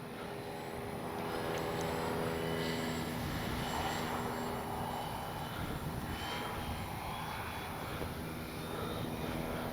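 A Dynam Bf-109 RC model warplane roars steadily through a low pass, its engine loud and continuous for the whole stretch with a broad, slightly swelling whine and no talk.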